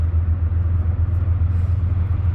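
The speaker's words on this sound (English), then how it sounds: "It's a tug pushing a barge." A tugboat pushes an empty barge south on a river from Albany and Rensselaer, its engine a loud, steady, pulsing low rumble that continues without a break, with no talking.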